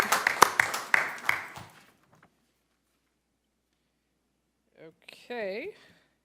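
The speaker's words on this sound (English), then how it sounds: "I feel like we should do like a round of applause or something before we move on" A few people clap at a city Board of Aldermen meeting, a brief close-up burst of claps that fades out within about two seconds, followed by silence and then a short spoken remark.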